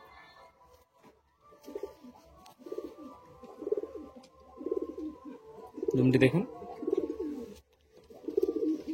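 Pet pigeons in a loft give low, throaty coos in a steady repeating rhythm, close by, while someone talks over them now and then.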